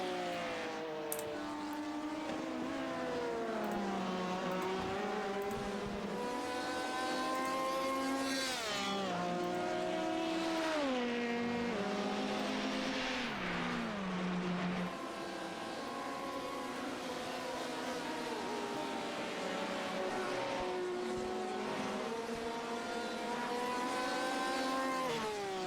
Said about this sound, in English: 20 cars on track at the moment